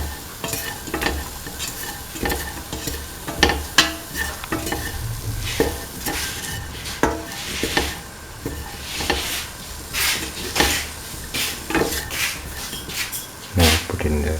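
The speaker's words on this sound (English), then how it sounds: "Now put in the mung beans, salt, and mix thoroughly." Stirring a mung bean, ivy gourd and coconut milk stew in a pan, with steady scraping and sizzling strokes repeating throughout at close range, no talk.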